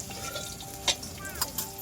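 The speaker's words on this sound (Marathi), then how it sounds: "आता एका कडेला त्याला खोबरा पण टाकून" Coconut roasts in a pan for mutton curry, a soft, faint sizzle with scraping stirs and a couple of brief spoon clinks.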